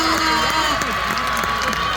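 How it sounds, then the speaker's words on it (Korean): Crowd cheering and clapping at an outdoor citizens' day festival performance in Miryang, right after a student dance team, with whoops and shouts over a dense continuous roar. "다시 한번 박수 보내주시기 바랍니다."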